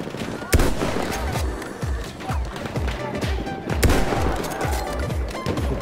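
Battlefield 1 combat fills the scene with dense, rapid gunfire and distant thumps, punctuated by two sharp, loud sniper rifle cracks.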